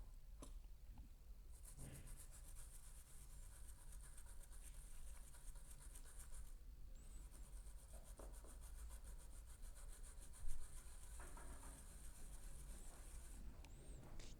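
A toothbrush scrubs steadily over a dirty iPhone being cleaned after falling in a toilet, a soft continuous rubbing and scratching heard close up and quiet, with no talking.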